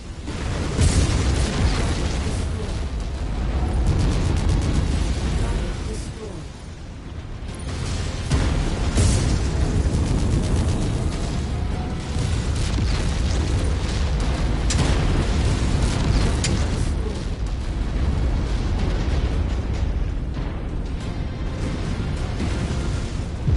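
Enemy mech blowing apart in the video game Mechwarrior 5, heavy booming blasts and rumbling debris layered over continuous loud battle noise, with a brief dip midway before the roar resumes.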